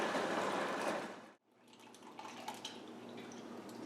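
Homebrew wort for a Bavarian Hefeweizen extract brew poured into a bucket through a hop strainer, a loud, steady liquid rush that cuts off abruptly, followed by quieter drips and trickling.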